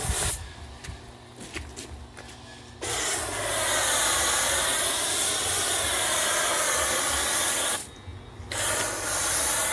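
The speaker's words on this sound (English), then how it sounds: "Now just give it an even spray right here." Spray from a nozzle onto a trailer being refurbished sounds as a steady, loud, close hiss lasting several seconds, stopping briefly, then resuming, with quieter handling sounds before it begins.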